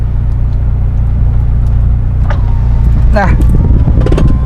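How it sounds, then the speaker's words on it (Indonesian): The engine of a lightly modified Honda Civic FD1 Type-R idles with a steady low drone, a brief rev or whine rising over it midway, while someone talks nearby. "Kita nyalain mesinnya."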